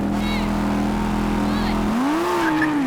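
Lamborghini Huracan and Audi R8 engines launching in a drag race: a steady loud engine drone shifts abruptly into a single rising then falling rev as the cars pull away, with faint voices underneath.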